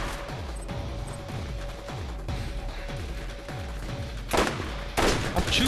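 Repeated gunfire in the Borderlands video game, a rapid series of punchy shots at a steady rhythm followed by two louder, harsher blasts near the end.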